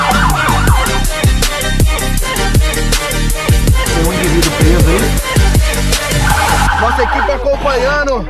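A fire brigade truck in Mococa, Brazil, sounds its siren: loud, close, rising and falling wails over dense rhythmic pulsing that continues throughout.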